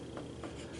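Pen or pencil writing out a circuit calculation for Kirchhoff's laws, a short soft scratching with a few faint strokes, close and alone.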